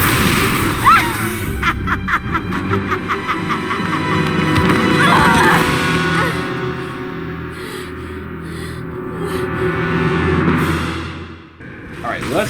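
A spell is cast in the Harry Potter and the Deathly Hallows PC game at Malfoy Manor, with magical bursts and pops over a dense game soundscape while voices speak throughout.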